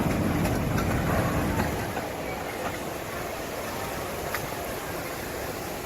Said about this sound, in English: You can hear the generator.